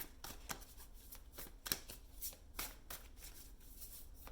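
Tarot cards being shuffled close up, a run of quick riffling flutters and soft slaps in an uneven rhythm, with no talking.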